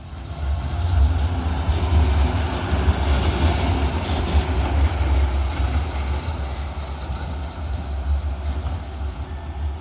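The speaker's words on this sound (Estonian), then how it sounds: "trammid juba nii varakult sõidavad" Trams rumble by in the early morning city, a steady, loud low roar of wheels and motors that swells slightly and holds throughout, with no voices.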